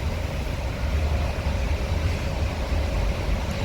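Low steady engine rumble of a Lorena SR2 double-decker bus pulling away, a deep continuous drone heard from inside with no talk.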